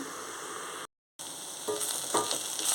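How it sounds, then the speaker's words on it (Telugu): Ponnaganti greens with coconut frying and being stirred in a pan, a steady hissing sizzle broken by a brief cut to silence, then returning with louder stirring scrapes and crackles. "మగ్గించుకుందాం మధ్య మధ్యలో చూసుకొని కలుపుతూ ఉండాలి"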